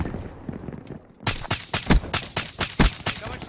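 Gunfire in the video game Call of Duty Black Ops 3, rapid automatic bursts that start after a quiet second and keep rattling, loud and close.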